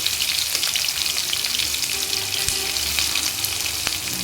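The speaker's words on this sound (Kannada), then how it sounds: "ಇನ್ನು ಹಾಕಿ 1 ನಿಮಿಷ ಫ್ರೈ ಮಾಡ್ಕೊಳ್ಳಬೇಕು" Masala fries in a hot pan with a dense, steady sizzle and crackle throughout, close and loud, with no talking.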